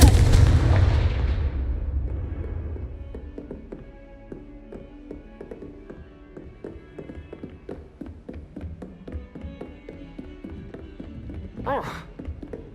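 A Confringo spell blast in Hogwarts Legacy goes off as a loud boom that fades over a couple of seconds, followed by scattered faint taps and thuds and a brief sharp burst near the end.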